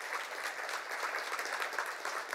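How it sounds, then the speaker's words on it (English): An audience at a speaker event claps steadily, dense applause that runs evenly through the whole moment at moderate, somewhat distant level. "get a round of applause"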